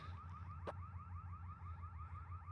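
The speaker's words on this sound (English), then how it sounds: "Someone's car alarm going off here at the park." Car alarm sounding at a city park, a repeating rapid warbling siren heard faintly from a distance over steady low background rumble.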